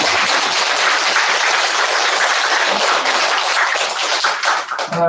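A crowd of worshippers applauds at a Buddhist temple service, a dense and steady clapping that carries loudly for about five seconds and then tapers off as a voice starts at the end.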